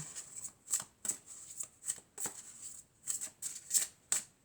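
A deck of angel and crystal oracle cards is shuffled by hand, giving about a dozen quick, crisp riffling bursts in an uneven rhythm, close and quiet with no talk.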